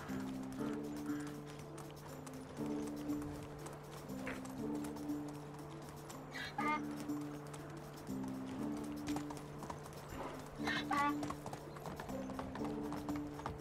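A donkey's hooves clop across a wooden bridge in the Medieval Dynasty video game, a steady rhythmic clip-clop continuing for the whole stretch over a repeating musical background.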